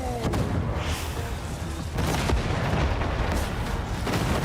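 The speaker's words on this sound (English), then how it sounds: "Grenade out!" A grenade goes off in the video game Warhammer 40,000 Darktide amid a dense, loud barrage of booms and gunfire that roars continuously with a surge in intensity midway.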